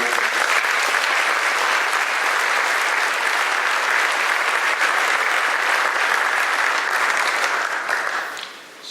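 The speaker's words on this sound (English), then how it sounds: "Please join me in a round of applause to recognize all these hard-working student athletes." A large audience at a high school senior awards night gives sustained, dense applause for student athletes, holding steady throughout before fading out at the end.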